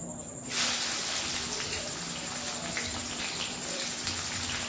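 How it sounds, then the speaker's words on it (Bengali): Onions tossed into hot oil for a Bengali-style soybean and potato curry set off a sudden hiss that settles into a steady, close sizzle lasting throughout. "পেঁয়াজটা আমি দিয়ে দেবো তেলের মধ্যে।"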